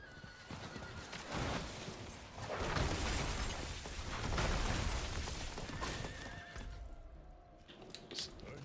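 Horse neighing and galloping in an online video game, with repeated whinnies and steady hoofbeats under game music and effects, fairly loud and continuous throughout.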